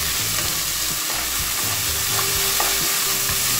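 Yardlong beans stir-fry in a hot pan as chicken spring roll filling, a steady close sizzle broken by repeated scraping strokes of a spatula, with no talking.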